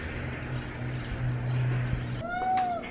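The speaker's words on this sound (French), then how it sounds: "Si tu miaules, c'est bon signe parce que ça veut dire que tu retrouves ton caractère" A pet cat meows once near the end in a short rising-falling call, close and clear, following a steady low hum in an indoor room.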